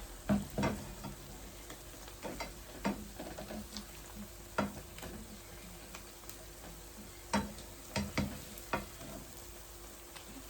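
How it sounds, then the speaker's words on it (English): Jamaican banana fritters fry gently in a pan with a faint, soft sizzle. Sharp utensil clicks and taps sound now and then over it, close by and fairly quiet. "I'm gonna let them fry on that side"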